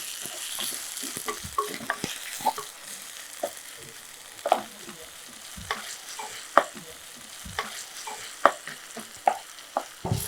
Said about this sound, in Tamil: ஒரு 4லேருந்து 5 நிமிஷம் நம்ம அப்படியே லோ ஃப்ளேமில் நல்லா வதக்கி எடுத்துக்கலாம்